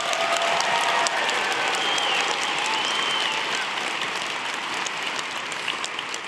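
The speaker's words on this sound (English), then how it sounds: "We now invite your applause for these anthropology graduates." Sustained applause from a convocation audience honoring anthropology graduates, a loud dense wash of clapping that slowly tapers slightly toward the end.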